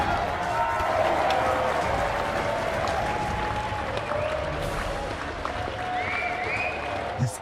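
A crowd at the Nathan's Famous hot dog eating contest claps and cheers, a sustained mass of applause with a few voices standing out in the mix.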